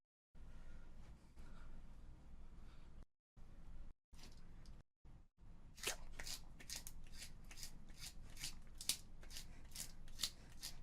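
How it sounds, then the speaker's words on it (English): Rapid repeated scraping and grinding bursts of a pencil being sharpened, sporadic at first, then a steady rhythmic series of strokes, close up. "World record pencil sharpening."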